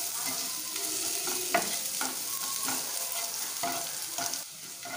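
Bottle gourd peel being stir-fried in a pan, with a steady close sizzle broken by repeated scraping stir strokes of the spatula every second or so, and no voices.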